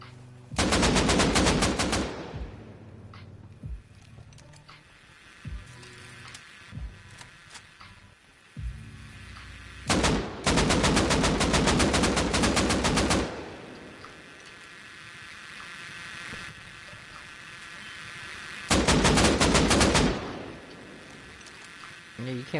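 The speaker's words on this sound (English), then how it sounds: "Pokemon, what are you shooting, Kush?" Automatic gunfire in the survival game Rust comes in three loud rapid bursts spread apart, with quieter background noise and occasional faint sounds between them.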